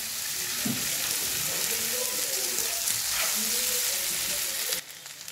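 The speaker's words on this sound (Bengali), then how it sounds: "এবার ভালো করে একটু মিশিয়ে নেব" Potato pasta being mixed as it fries in a pan: a loud, steady, close hiss of sizzling with occasional soft stirring scrapes, cutting off abruptly near the end, no talk.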